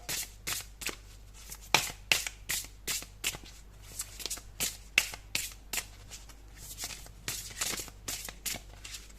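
Brand-new oracle cards are shuffled by hand in a quiet room, giving a steady run of crisp, close riffling flicks and slaps in uneven bursts, with no talking over them.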